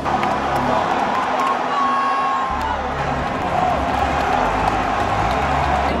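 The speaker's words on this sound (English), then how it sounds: "The U.S. fans are doing... Uh, the Icelandic clap." US fans at a World Cup match in Qatar perform the Icelandic clap, a stadium crowd's dense roar with slow, booming unison claps and shouts emerging from the din.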